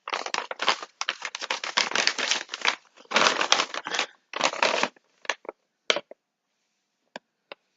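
Paper envelope holding a book being handled and crinkled, a dense run of rustling and crackling bursts up close that thins into a few isolated crisp ticks toward the end.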